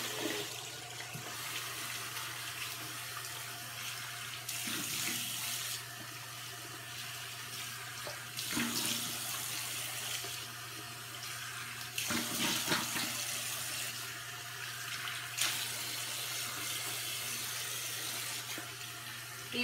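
Water runs steadily from a bathroom sink tap while a face is rinsed during a nightly skin care routine, a continuous close hiss with brief splashes and dips as hands move under the stream.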